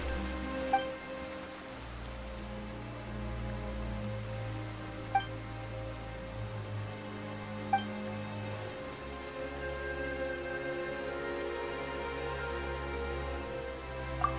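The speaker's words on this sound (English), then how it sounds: "Why is it raining all of a sudden?" Rain falls steadily in the Fontaine region of Genshin Impact, a soft continuous patter over a low, sustained musical backdrop, with a few faint clicks scattered throughout.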